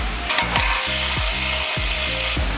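Repeated ratchet clicks come from a wrench tightening the mounting bolts of a Rockarmor bullbar on a 2013–2017 Toyota Prado 150 Series, heard as steady close rasping strokes with brief pauses between pulls.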